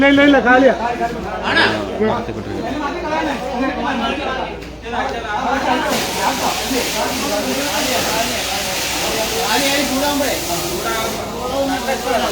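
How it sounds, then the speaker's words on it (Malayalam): Firefighters spray water on a burning mattress shop, giving a steady broadband hiss and rush under loud, continuous crowd talk outdoors. "തീ അണയ്ക്കാനുള്ള ശ്രമം"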